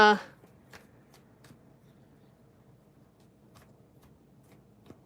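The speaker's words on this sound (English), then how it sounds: "I'm shuffling the cards" Tarot cards are riffled in a short burst at the start, followed by faint soft card handling and slides against a quiet room.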